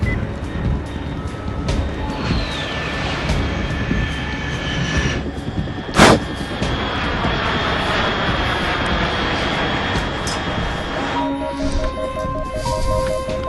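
Jet aircraft roaring overhead in the video game Metal Gear Solid 3, a loud continuous engine drone with a whining tone and a sharp burst midway, heard without talk.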